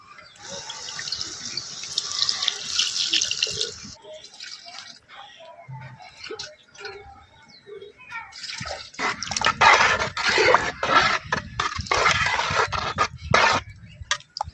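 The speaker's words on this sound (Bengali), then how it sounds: "খিচুড়ির মধ্যে আমি জল দিয়ে দিয়েছি" Water is poured into a pot of winter-vegetable khichuri with rice and lentils, a close, splashing gush that stops, then after a quieter gap with a few clinks returns as a louder, bubbling pour.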